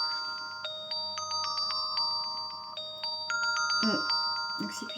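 A mobile phone message notification sounds in a series of bright, clear electronic beeps and chimes, fairly close, with brief rustling near the end.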